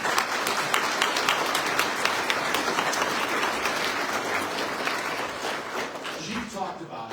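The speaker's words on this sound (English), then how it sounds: "A round of applause for you," A crowd applauds at a fire department recruit class and promotional badge pinning ceremony, sustained clapping filling the room and slowly thinning toward the end as a voice begins to speak.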